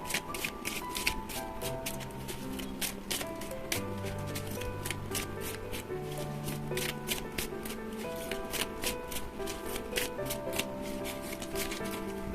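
Tarot and oracle cards being shuffled and drawn, a steady stream of crisp, close riffling and flicking card sounds over soft background music, no talking.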